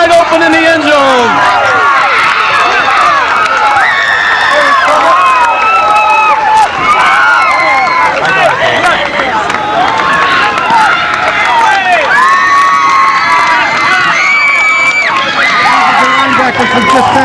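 Loud, dense crowd cheering and shouting fills a 1991 high school football game between Lynn Classical and Salem, with whoops and yells rising and falling throughout while an announcer talks over the roar.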